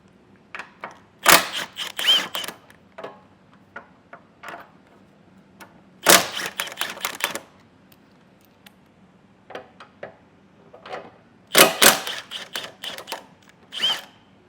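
Bolts are loosened with a 15 mm wrench, heard as sharp metallic clicks and ratcheting ticks arriving in three distinct bursts with short pauses between, close and fairly quiet.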